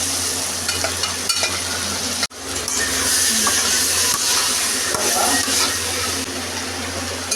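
Boiled chicken dropped into a pan of sautéed onion and tomato, crackling and sizzling steadily and loudly throughout, with a brief sharp break early on and stirring scrapes over the constant hiss.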